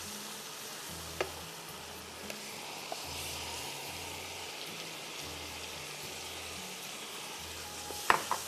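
Onions frying in a pan for a mutton paye recipe, a dense, even sizzle held steady throughout, with a faint low rhythmic hum underneath and a couple of sharp utensil clinks near the end.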